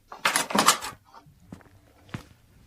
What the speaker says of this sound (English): When I opened the door